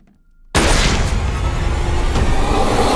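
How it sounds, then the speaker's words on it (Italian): A sudden loud boom bursts from near silence and rings out into a dense, sustained roar of blast and debris, like a heavy gunshot in a movie trailer. "Oddio, hai sparato alla cameriera!"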